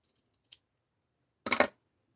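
Scissors snipping through fabric for a quilt square, a faint small click followed a second later by one crisp, close cutting snip.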